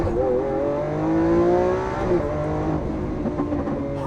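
A Lamborghini Aventador S V12 engine accelerating hard toward its 8,500 rpm redline, pitch climbing steadily through the revs, loud and close, then a brief drop as it shifts and carries on pulling.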